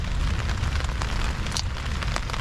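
Heavy rain drumming on a camping tent during a windy storm, a dense, even patter heard from close inside, constant throughout with no voices.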